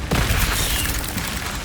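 In the Hogwarts Legacy video game, an Incendio fire spell goes off as a sudden loud whooshing burst that rolls into a dense, crackling roar and fades only slightly by the end.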